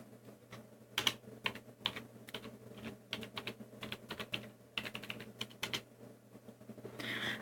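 Fast, uneven keystrokes clatter on a computer keyboard in bursts and short pauses, close and fairly quiet, with no talking.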